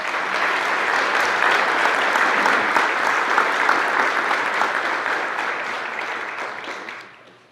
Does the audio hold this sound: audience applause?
yes